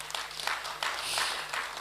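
Brief burst of audience applause at a church stewardship workshop for accountants, scattered clapping from a crowd, moderately faint and rising and falling over a couple of seconds.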